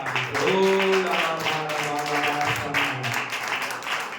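Congregation clapping during worship at a church service, rhythmic hand claps blended under sustained singing voices and a tonal backing, fairly loud and continuous.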